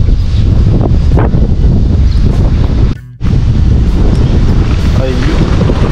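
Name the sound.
strong wind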